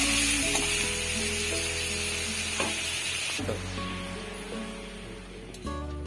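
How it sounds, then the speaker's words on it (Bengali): Small prawns fry in hot oil in a wok over medium heat, a steady close sizzle with occasional stirring clinks and a slight change in tone partway through. "কড়াইটা একটু গরম করে কড়াইতে তেল দিয়ে মাছগুলো সব ভেজে নেব"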